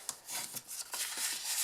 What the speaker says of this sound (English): fold and burnish our score lines